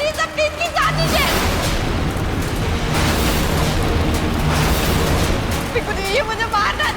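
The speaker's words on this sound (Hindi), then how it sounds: "लोहड़ी की आग में पटाखे किसने डाले?" Firecrackers burst inside a Lohri bonfire, giving a loud, dense run of booms and crackling that fills the whole stretch, with voices speaking over parts of it.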